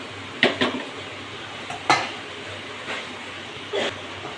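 Kohlrabi frying in a pan at home, with a few sharp metal scrapes and clinks of a utensil stirring against the pan over a low steady background, no talk.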